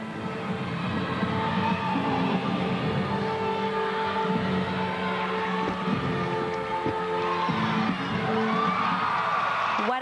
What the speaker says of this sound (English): And the home crowd erupts as a result.